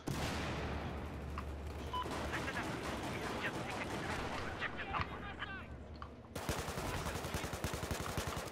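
Rapid bursts of frag-round weapon fire in Battlefield 4 run loud and continuous throughout, dense repeated shots with a sharper staccato stretch near the end, over busy battlefield noise.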